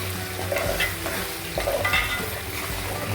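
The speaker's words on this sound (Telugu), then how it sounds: "ఈ ఆనియన్ అల్లం పేస్ట్ బాగా వేగనివ్వాలి" Onion and ginger paste frying in a pan for a fish curry, with a steady soft sizzle and occasional scrapes of stirring throughout.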